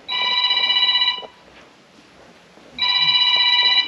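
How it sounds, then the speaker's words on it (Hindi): A telephone rings loudly in two long electronic bursts separated by a short pause, with no talking. "फोन है उत्तम जी लीजिए।"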